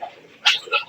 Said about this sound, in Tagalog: Ayan ang alaga nating aso guys.